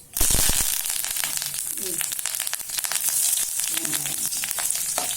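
Chillies, onion and ginger sauté in a hot pan with a continuous, close sizzle that crackles steadily throughout, rising slightly in intensity partway through.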